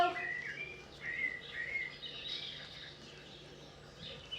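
Birds chirp and tweet in short bright calls near a stage, a scattering of small songs over a faint background hum.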